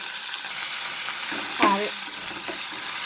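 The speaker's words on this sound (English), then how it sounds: "I am going to add the 2 tablespoons of ginger and garlic paste. And I am going to cook this paste nicely." Ginger and garlic paste fries with onions in a pan for matar ghugni, giving a steady close sizzle throughout, with one brief spoken word in the middle.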